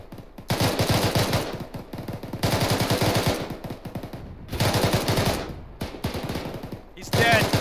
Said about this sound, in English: Keep shooting. Shooting all around him.